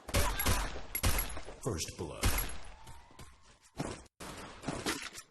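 Gunfire in Free Fire, a few sharp shots near the start followed by scattered game effects and a spoken voice over the action, with a short silent gap near the end.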